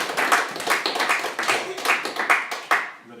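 A small church home group applauds for a woman named Mélodie, a steady burst of close hand clapping that fades out near the end.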